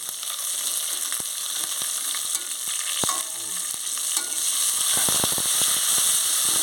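Onions and green chilies sizzle in hot oil for pea pulao, a steady close frying hiss broken by sharp clicks and scrapes of a spoon stirring the pan, growing busier toward the end, with no voices.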